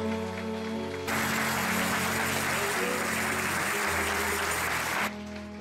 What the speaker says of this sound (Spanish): denle ese aplauso fuerte a Jesús